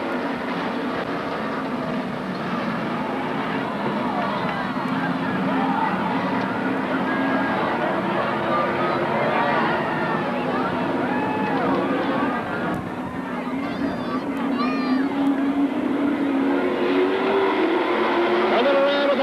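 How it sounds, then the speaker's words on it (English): Superstock race cars roar down a dirt track at the start of a feature race at Magic City Speedway in Billings, Montana, a loud sustained wall of engine noise with rising and falling revs as the pack passes. "coming down for the start of the first feature race in the Superstocks"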